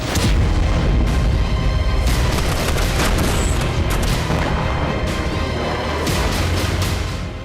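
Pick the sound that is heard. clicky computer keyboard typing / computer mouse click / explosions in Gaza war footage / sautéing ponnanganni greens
explosions in Gaza war footage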